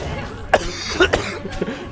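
A few short coughs, close to the microphone, spaced out over a couple of seconds with a faint voice in between.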